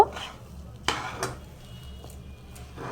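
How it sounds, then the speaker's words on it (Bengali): Pea paste with sugar being stirred in a pan over low heat, a few scattered scrapes and clinks of a spoon against the pan over a faint background, quiet and close. "অল্প আঁচে ক্রমাগত নাড়তে হবে"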